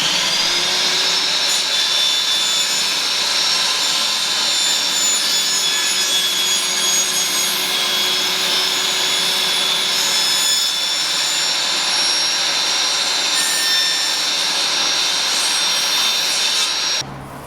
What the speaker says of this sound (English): I set the table saw to cut the same angle to make a nice joint for the 2 pine pieces